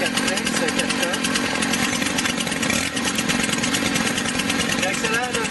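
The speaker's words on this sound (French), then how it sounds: "Là, on entend le moteur 2 temps au ralenti." A two-stroke brushcutter engine idles steadily, a dense, continuous buzzing drone that stays close and even throughout.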